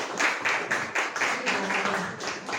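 Audience applause at a literary gathering of troubadour poets, a steady round of clapping from a modest crowd with faint voices mixed in, moderately loud and continuous.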